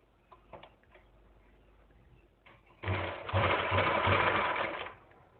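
A sewing machine stitches the neckline of a Naira-cut dress, running in a loud steady burst for about two seconds after a quiet start with faint handling noises.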